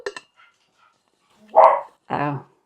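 A pet dog indoors gives a couple of loud, close barks after brief faint sounds, with a voice nearby.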